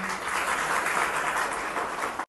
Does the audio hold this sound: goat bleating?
no